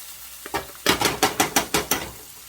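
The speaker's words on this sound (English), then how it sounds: "don't forget to stir it occasionally because it can get stuck to the pan." A spoon scrapes and knocks against a pan of chicken and rice with water, about seven rhythmic stirring strokes over a faint sizzle, close up with no talk.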